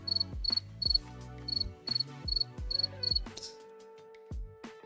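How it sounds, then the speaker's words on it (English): A crickets chirping sound effect gives regular bursts of high, rapid chirps in quick groups, heard over low plucked tones and thumps that carry on after the chirping stops. "Crickets. We need the crickets."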